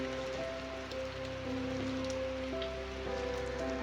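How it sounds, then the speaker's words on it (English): Rain falls steadily around a traditional Lhakhang temple house, a soft, even hiss that holds throughout, with faint sustained tones running beneath. "The rain was still coming down"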